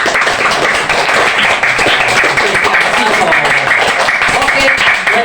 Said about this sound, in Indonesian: Tepuk tangan toh.